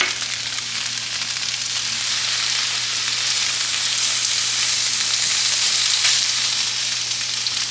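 Chives and tofu sizzle in a pad thai stir fry, a steady, close, continuous frying hiss with a faint low hum underneath and no voices.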